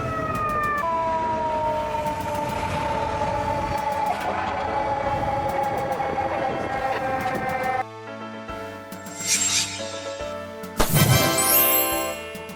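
Hazmat response unit, a fire service vehicle for chemical, radiation and hazardous-substance incidents, sounding a loud wailing siren with rising and falling tones, then a horn blast and sharper electronic yelps toward the end.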